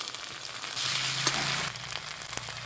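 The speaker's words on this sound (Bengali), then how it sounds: "পেঁয়াজটা ভালো করে ভাজা হয়ে গেছে, এর মধ্যে দিয়ে দেবো আদা বাটা, দিয়ে দেবো কালো জিরে, সাদা জিরে আর লঙ্কা বাটাটা" Onion fried in oil, with ginger paste and black and white cumin added, sizzling steadily in a pan for the whole stretch, close and fairly loud, with a brief stirring clatter partway and no talk.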